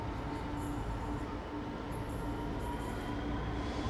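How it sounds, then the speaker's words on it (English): A freight train hauled by a grimy Class 66 locomotive rumbles through Cardiff Queen Street station, a steady rolling drone of wheels and wagons, continuous and moderately close with faint higher squeals. "So you don't normally get freight coming through Cardiff Queen Street."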